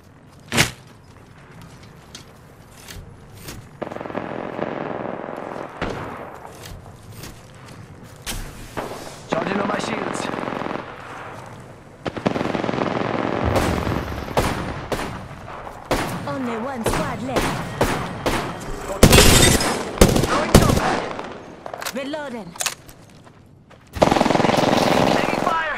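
Bursts of automatic and single-shot gunfire crack through a squad fight in Apex Legends. Volleys come in loud clusters that build toward the end, with voices talking over parts of the fighting.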